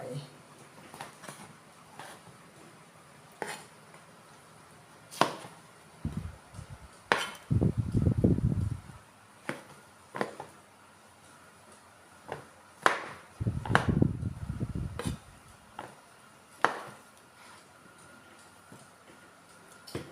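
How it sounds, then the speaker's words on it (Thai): A knife chops mushrooms on a board for a spicy Thai soup, scattered sharp taps at irregular intervals with a few clattering bursts in between, in a quiet kitchen. "แล้วก็หั่นเห็ด ใส่เห็ดไปด้วย"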